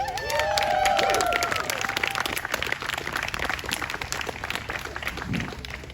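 A crowd at a climate event in Newark, Delaware claps and cheers, with whoops and voices rising over dense steady applause at the start before it settles into continuous clapping.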